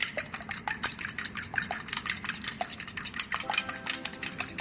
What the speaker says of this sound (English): I never know when my eggs are beaten up.